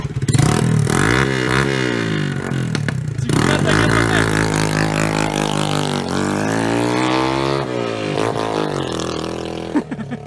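A car engine with its exhaust removed revs hard and close, its pitch sweeping up and down repeatedly over ten seconds, with rough crackling pops and a brief drop between revs.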